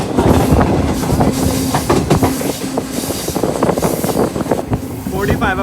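A Green Line Express passenger train rolls along rails in Pakistan, its wheels clattering in a steady rhythm with a loud, close rumble and occasional squeals, while voices murmur faintly beneath.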